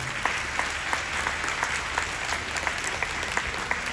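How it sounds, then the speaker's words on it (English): An audience at a Sikh youth symposium in Dallas applauds after a speech, a continuous crowd of clapping hands with individual claps popping out, steady and moderately loud. "Let's have a round of applause for Sehaj Singh."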